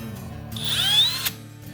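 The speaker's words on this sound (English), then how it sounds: "let's drill a center hole" A 7/8 drill whines up in pitch as it bites into material to bore a center hole for about a second, then cuts off with a short clunk amid a low background hum.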